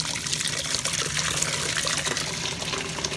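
An overfilled steam boiler throws out water in a continuous hissing gush, loud and close, with splashing and trickling that carries on without a break.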